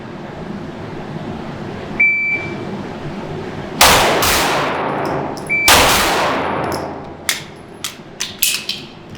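Gunshots ring out during a timed shooting qualification drill, two sharp loud reports a couple of seconds apart, followed by a scatter of fainter distant shots and metallic clangs.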